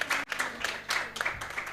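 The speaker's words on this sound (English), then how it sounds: "Let's welcome him again with a round of applause." Brief, fairly faint round of clapping from a conference audience welcoming a panel speaker at a hospitality and tourism event, scattered claps pulsing irregularly.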